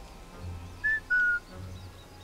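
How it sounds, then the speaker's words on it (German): Two short whistle tones, a brief one then a longer one, from a player luring an enemy in the stealth shooter Sniper Elite 5, standing out clearly over low game ambience. "Pass auf, ich mach mal die Pfeife jetzt hier."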